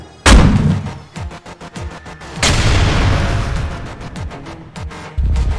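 Portal 2 turrets in an animation fire a loud burst: a sharp boom followed by rapid, closely spaced shots that trail off, then another heavy blast with a long rumbling wash and a renewed burst at the end.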